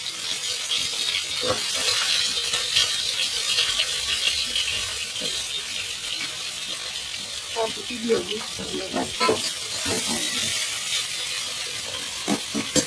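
Onions and potatoes sizzle and fry in a pan with a steady, close hiss and occasional stirring clatter, while a person talks over the cooking.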